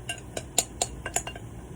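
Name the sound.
scraping food out of a bowl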